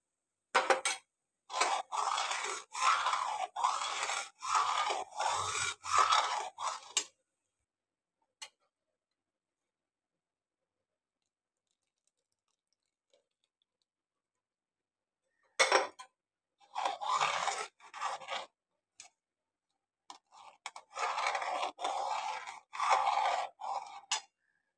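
A spoon scrapes and taps around a pot of fruit custard in steady rhythmic bursts, a long pause of silence in the middle, then more stirring, close and clear with no talk.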